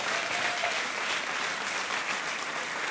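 Church congregation applauding steadily throughout, a dense, even burst of clapping filling the room with no speech over it.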